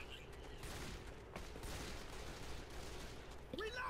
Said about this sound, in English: but I decided to shoot the fence instead.